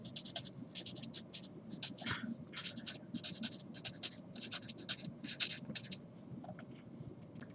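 Marker or chalk strokes scratching across a board as Spanish affirmative-command notes are written, quiet and steady with short scribbling bursts and brief pauses between words.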